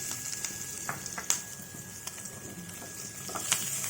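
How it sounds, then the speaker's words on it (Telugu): Green chillies frying in oil for a curry leaf and sesame chutney, giving a soft, steady sizzle with a few scattered pops and a stir or two, close but quiet and with no voices. "ఇవి వేగుతుండగా అందుకనే ముక్కలు చేసుకోవాలండి, చిట్చిట్లాడకుండా"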